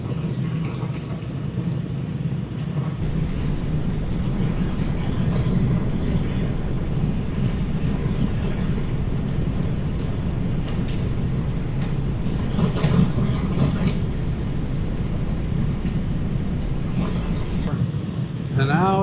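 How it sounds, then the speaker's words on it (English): Continuous wind and engine rumble from a BMW R1200GS motorcycle riding home in the rain, with a steady road-and-spray hiss throughout and a voice talking over it. "And now it's just a soggy ride home."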